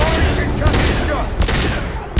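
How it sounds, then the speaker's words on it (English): Loud, dense video game combat in Mass Effect 2, with a concussive shot firing amid rapid overlapping gunfire and sharp impact bursts, several strong transient hits spaced through a continuous din. "Firing concussive shot!"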